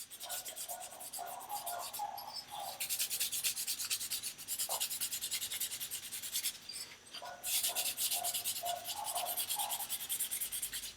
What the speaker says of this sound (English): I'll actually just scuff it up with the Scotch-Brite, and most of it comes right off